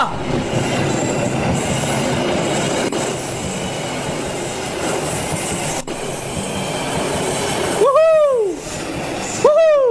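In a video game, a train rumbles and clatters into a station before its wheels let out loud, sweeping metallic squeals near the end, heard close up.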